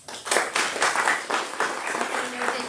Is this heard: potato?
no